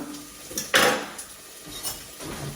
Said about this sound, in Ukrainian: Перемішуємо цибульку, щоб не підгоріла